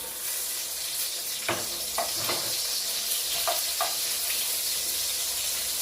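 Onion sizzles steadily as it is sautéed in a pan for sinigang sa miso with salmon head. A continuous hiss runs throughout, with a few sharp clinks and scrapes from stirring.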